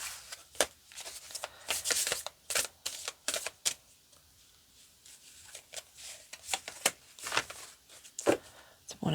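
Tarot cards being shuffled by hand, a run of quick papery riffles and flicks in bursts, close and fairly soft, with brief pauses between handfuls.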